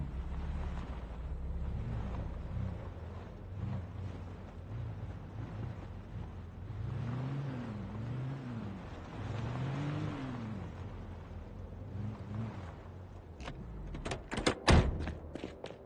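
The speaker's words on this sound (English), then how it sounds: "Let me move the truck out of the way here." A truck in the zombie survival game Project Zomboid starts up and drives, its engine rising and falling through several revving swells, with a door clunk and sharp knocks near the end; no talking.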